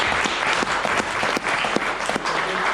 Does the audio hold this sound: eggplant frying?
no